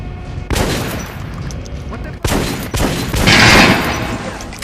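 Shotgun blasts from the boomstick in the game Metro Last Light: loud, close bursts with a strong onset near the start and another about halfway through, followed by sustained rumbling and clatter as the shots ring out.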